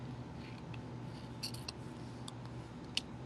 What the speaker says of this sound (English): I'm going to trim that off